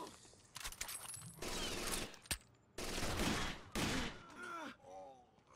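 Gunfire from the video game Rainbow Six: Vegas 2 in Terrorist Hunt mode: loud, dense bursts of automatic fire roll in long stretches with short gaps between them, and a few mechanical clicks and clatters trail off near the end.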